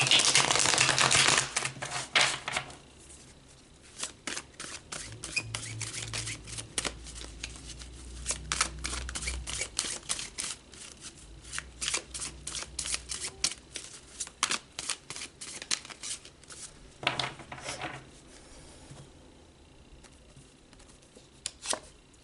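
A deck of tarot cards is shuffled with a close, dense riffle at the start, then a long run of quieter irregular card flicks and taps in a hushed room.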